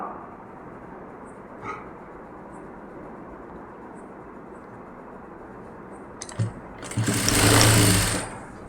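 A sewing machine stitches a nighty in a single short whirring run near the end, after a long stretch of quiet room noise broken by a faint knock.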